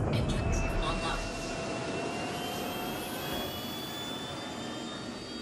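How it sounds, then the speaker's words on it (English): A loud, roaring spaceship engine whine from an Anvil Super Hornet in Star Citizen, with rising high-pitched tones, steady and continuous as it spools up, with faint speech mixed in. "go ahead and turn on the engines"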